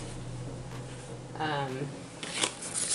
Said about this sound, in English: So then we can just add these little cards.